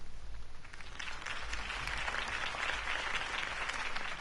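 A crowd applauds after Harvey Dent's campaign speech in Telltale's Batman game, the clapping dense and continuous at moderate distance over a low rumble.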